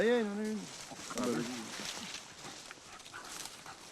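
Hunting dogs at a wild boar hunt in the Auvergne whine and yelp in short, high bursts close by, mixed with rustling and French voices talking over them.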